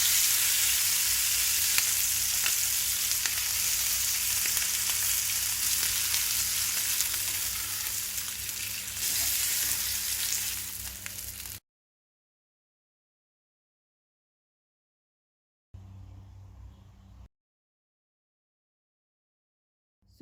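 Chicken frying in a little oil in a pan for Arabian chicken mandi gives a loud, steady broadband sizzle for about eleven seconds, then silence, then a brief return of sizzling.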